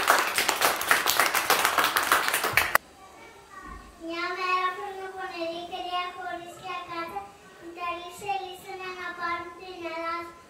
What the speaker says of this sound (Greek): Μπράβο! Χειροκρότημα!